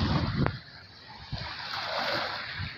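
Red Sea waves wash onto a gently sloping beach in Hurghada, giving a steady broadband wash of surf with a brief splash near the start, moderately loud and with no talking.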